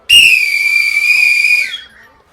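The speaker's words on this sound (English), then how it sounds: "what are you blowing your bloody whistle for?" A referee's whistle at a football match gives one long, piercing, steady blast lasting over a second, loud and close, then cuts off sharply.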